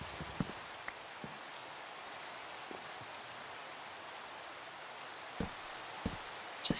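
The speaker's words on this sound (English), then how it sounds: "Just enjoy the rain" Steady rain in Minecraft hisses evenly throughout, with a few sharper drop-like taps scattered across it, soft and with no talking.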